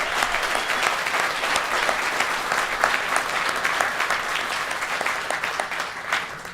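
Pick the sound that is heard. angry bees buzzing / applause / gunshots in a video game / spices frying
applause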